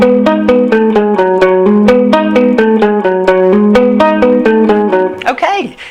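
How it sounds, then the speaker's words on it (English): A riff on electric guitar, strings lightly muted by the palm resting on the bridge; a brisk, even stream of plucked notes cycling through a short pattern, loud and up close, closing with a quick slide. "just muting those strings a tiny little bit"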